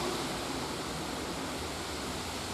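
A small waterfall on a creek pours in a continuous, even broadband rush, steady and moderately distant, with no voices or other distinct sounds.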